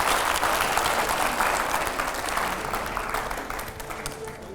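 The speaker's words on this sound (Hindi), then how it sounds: "जोरदार तालियां हो पहले तो एकदम।" Studio audience at a televised political discussion breaks into loud, dense applause that stays strong throughout before easing slightly toward the end.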